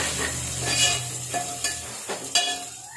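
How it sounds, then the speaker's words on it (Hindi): Chopped onions fry in leftover oil in a pan, giving a steady close sizzle. A few brief scraping stir strokes rise above it. "तो तेल जो बचा हुआ है उसके अंदर मैं प्याज डाल देती हूँ। अब प्याज को इसमें अच्छे से भून फ्राई कर देती हूँ।"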